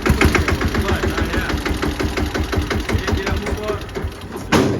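A tractor engine runs at idle close by, a loud rapid knocking chug with an even rhythm, and a brief jump in noise near the end.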